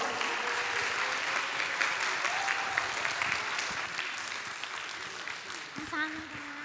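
An audience at a church praise festival in the Philippines claps steadily to welcome a student soloist, the applause fading slightly toward the end as a voice briefly sounds over it.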